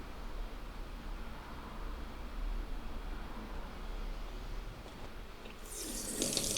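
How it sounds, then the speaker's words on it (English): A kitchen tap runs steadily into a sink while freshly picked beans are rinsed, making a constant close hiss of flowing water that grows slightly brighter and splashier near the end. "I'll give these a wash in the sink just to get anything off them"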